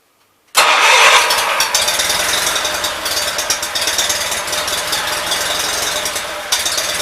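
A Lincoln welder generator's engine fires up abruptly after silence and keeps running steadily with a loud, slightly uneven mechanical chug.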